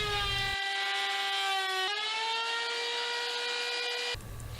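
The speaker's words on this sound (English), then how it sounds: "I will use the router table to round over the top edge with a slight countersink" A router table rounds over the top edge of a wooden block for a toy bank, its motor giving a loud, steady high whine that dips briefly as the bit bites the wood and then spins down at the end.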